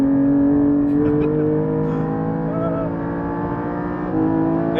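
Porsche GT4 RS race car engine droning steadily on a race track, a continuous loud in-cabin hum with subtle shifts in pitch and no talk over it.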